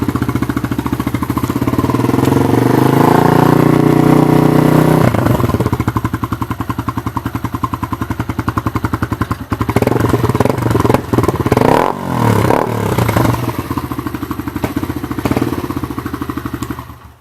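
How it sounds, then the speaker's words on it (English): Sinnis Apache 125 motorcycle engine starting up and revving, close and loud, with a high rev settling into a rough idle, rapid firing pulses, and several blips of the throttle with mechanical clatter. "obviously won't be complete without starting bike up"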